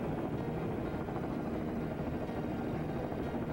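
Military helicopter in combat during the 2003 invasion of Iraq, a steady, loud rotor and engine roar filling the whole stretch without pause and with no talk over it.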